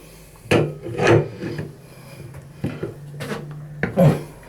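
A shifter wrench tightens a bathroom tap, giving several close scraping and grinding bursts of metal turning against metal with short pauses between them.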